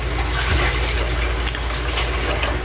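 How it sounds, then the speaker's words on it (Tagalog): Water pours steadily into a cooking pot while pancit canton is being prepared, a close, continuous splashing stream lasting a few seconds with no talk. "dagdagan po natin ng kaunting tubig pa"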